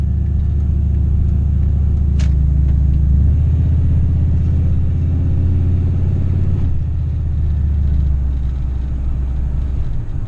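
Turbocharged Chevrolet Silverado truck engine lugging at low revs around 35 mph in overdrive with the 4L80 transmission locked up, a loud, steady deep rumble from inside the cab with a slight shift in tone partway through.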